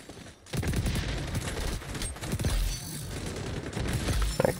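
Rapid bursts of gunfire from the shooter game XDefiant, loud and near, firing almost continuously with short breaks between volleys.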